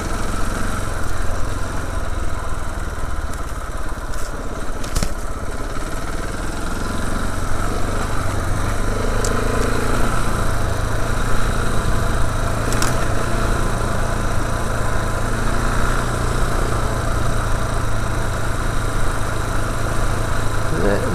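A motorcycle heading north along a Somerset byway from Dunkerton toward the A367 gives a steady, close engine drone with a low rumble that barely changes throughout, and a voice talks over it at times.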